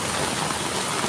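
Heavy rain falling in Surat, heard as a steady, dense broadband hiss that stays loud and even throughout the short stretch, with no voices over it.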